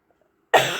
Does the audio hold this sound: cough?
yes